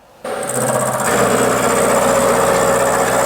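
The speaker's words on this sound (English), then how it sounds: "I shall deburr it and then we'll flick it over and machine these edges down." A Harrison 12-inch swing lathe machining steel edges starts up abruptly and settles into a steady, close mechanical whine with a faint high tone.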